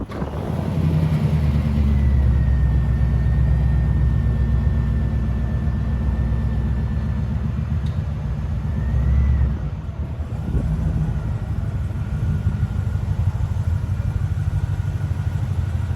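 The engine of a 1998 Firebird Formula runs steadily and loud nearby as it warms up, its low rumble swelling slightly, briefly dipping near the ten-second mark, then continuing at an even pitch.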